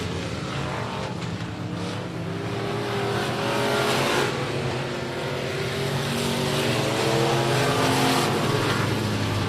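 Winged modified race cars roar down the back straightaway at Big O Speedway, a sustained distant engine drone that swells and shifts pitch as the pack passes, heard from the stands without talk.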